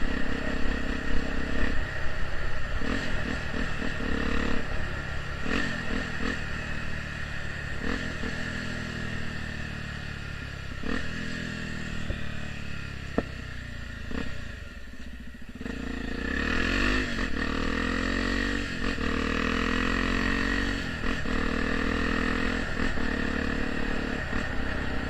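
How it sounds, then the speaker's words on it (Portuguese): A Honda Tornado motorcycle fitted with a Protork exhaust revs hard again and again close by, its sharp backfires popping and crackling between the throttle blips as the engine note rises and falls. "Ele dá cada tiro, mano, muito bruto o tiro que esse escape dá, velho."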